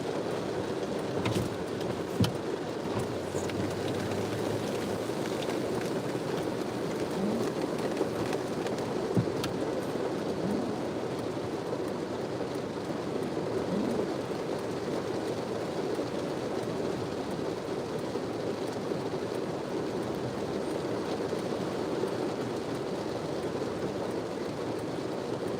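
Heavy rain falls steadily at a cemetery during a funeral, a dense, continuous hiss and patter that stays even and unbroken throughout, with no voices.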